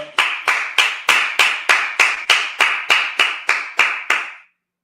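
About a dozen sharp claps from an audience at a Sabbath service, in a steady, evenly spaced rhythm, each ringing briefly before the next, then silence.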